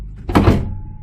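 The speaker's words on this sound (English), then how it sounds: "you swing the door open and that magnet catches it" A single dull thunk as a boat cabin door swings open and snaps into its magnet catch, close and fairly loud, with a short low-frequency ring fading afterward.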